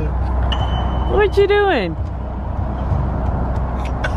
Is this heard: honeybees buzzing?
no